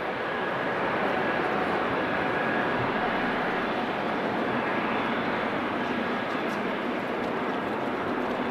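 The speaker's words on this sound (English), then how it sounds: "No, it's a 777 by the way, departing from the 24 in the background." A KLM Boeing 777 takes off from runway 24 at Amsterdam Schiphol, heard as a constant broad jet roar from a distance that holds steady throughout, with no voices.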